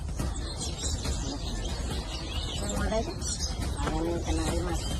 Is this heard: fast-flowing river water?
no